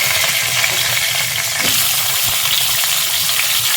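Thin strips of raw banana fry in hot oil, giving a steady, close, even sizzle that hisses on without pause and with no one talking.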